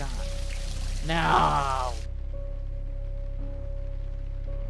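Shower water running in a horror video game, a broadband pouring hiss that swells briefly then cuts off after about two seconds, with a steady tonal hum continuing beneath.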